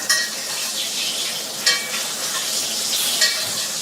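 Pork chops basting in hot oil with rosemary, a bright close sizzle with three sharp spoon-splash bursts spaced across a few seconds.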